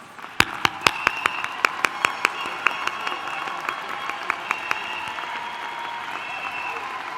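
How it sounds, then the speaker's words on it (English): Commencement crowd at a university ceremony claps for parents, families and spouses, with a dense sustained wash of applause punctuated by a few sharp, close individual claps in a regular rhythm. "Graduates, help me to give a round of applause to our parents, families, and spouses."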